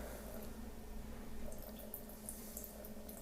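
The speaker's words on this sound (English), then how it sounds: "So I'm just going to use this gooseneck Bonavita kettle here to do that. This will give me more control and a slower pour" Water trickles in a slow, thin stream from a Bonavita gooseneck kettle, a soft, steady pour with faint dripping splashes, quiet and close with no talking.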